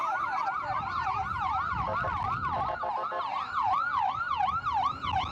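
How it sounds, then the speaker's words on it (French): An arriving ambulance sounds its siren in a fast, repeating wail that holds loud and close throughout, over street background noise, at a tense protest scene in the United States. "You could see another ambulance is coming in"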